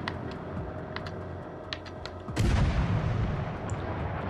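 Warship guns fire in World of Warships Legends, a sudden heavy boom midway that rolls into a loud, lingering rumble, preceded by a quieter stretch with faint clicking taps.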